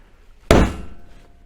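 A single sharp hammer strike tapping gasket paper against a heavy angle iron backer on a Cushman Trackster flange, loud and close with a short metallic ring fading out.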